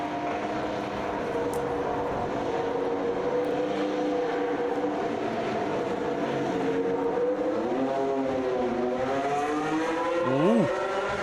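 Mercedes and Alpine Formula 1 cars on track in 2026, a sustained high-revving engine whine that holds steady, then sweeps up and down through gear changes before a sharp rising wail near the end.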